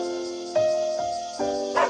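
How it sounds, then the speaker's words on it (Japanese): A dog barks in the Doraemon Story of Seasons video game, three short yelps spaced over a tonal game music bed, close and clear with no talking. "あ、吠えてる。"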